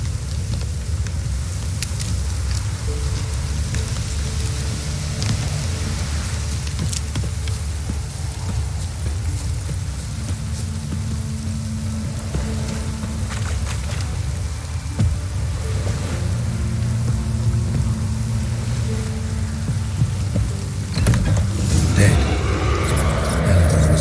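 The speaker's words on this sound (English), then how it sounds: "Looks like rain." Steady rain falls in The Witcher 3: Wild Hunt, a constant hiss layered under low game ambience, with faint tonal music lines and a louder rumble building near the end.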